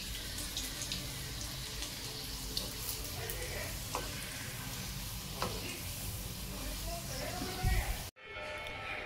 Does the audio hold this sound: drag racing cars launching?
no